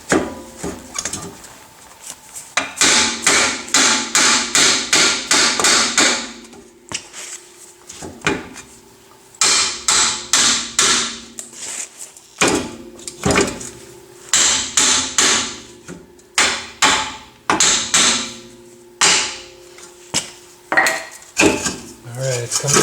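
Repeated hard metallic hammer blows knock a rusted rear hub out of a 2009 Toyota Corolla, coming in loud bursts of rapid strikes separated by short pauses, with ringing metal clangs throughout.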